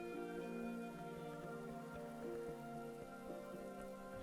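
Steady patter of rain from the video game Book of Hours, a soft continuous hiss of drops under a sustained droning musical backdrop, even and unbroken throughout.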